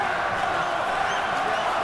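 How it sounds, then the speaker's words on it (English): Steady crowd roar at a boxing match between Bernard Hopkins and Jean Pascal, a broad, continuous wash of voices urging a fighter on, with no distinct claps or single shouts. "The crowd trying to urge on Pascal."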